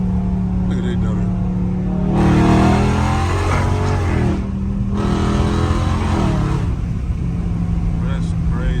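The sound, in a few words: catless Dodge Charger Scat Pack revving in track mode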